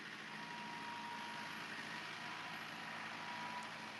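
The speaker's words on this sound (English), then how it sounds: "She's a nice tractor, Susan." Steady broadband engine drone from a nearby tractor running continuously, with no pauses or talk over it.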